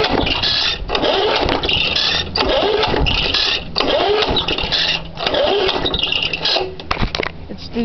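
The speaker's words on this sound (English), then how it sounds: "So, cold start. Muffler's cold." A 1972 Ford F-150 truck engine is cranked from cold with its muffler still cold, making repeated loud bursts of starter churning and rough, sputtering engine noise close by, broken by brief pauses between attempts.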